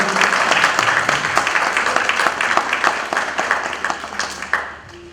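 Loud applause from an audience at an evening tribute event in India, a dense wash of many hands clapping that holds steady for several seconds, then thins out toward the end with a few scattered claps.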